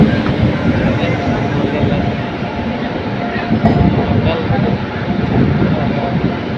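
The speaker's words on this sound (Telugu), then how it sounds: "మన ట్రైన్ వచ్చేసి ప్లాట్ఫామ్ నెంబర్ 2లో ఉంది." The Narsapur Express stands at platform 2 of Narsapur station, giving off a continuous low rumble and clatter, fairly loud and close, with some fluctuation midway.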